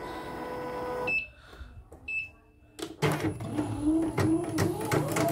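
A YOKO embroidery machine switched on: electronic beeps and a brief whirr, then a busy mechanical clatter and hum as it starts running, loud and close.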